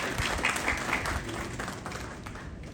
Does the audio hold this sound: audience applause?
yes